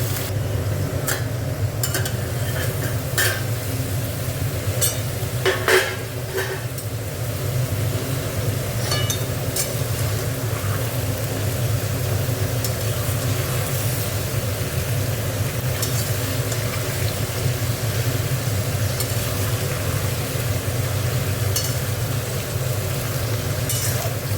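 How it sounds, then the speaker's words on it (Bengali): A steady, continuous sizzle of chachori frying in a pan, with a low hum underneath and occasional small clicks and taps. "একটু ভাজা ভাজা হোক"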